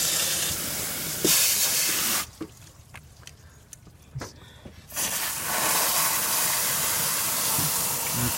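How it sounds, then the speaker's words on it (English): Compressed air forced through a clogged heater core on a 2002 Honda Accord, a loud steady hiss that cuts out for a few seconds midway and then resumes, close by, with no talking. "I'm going to put the hose on the bottom feed of the heater core and blow the hose through it."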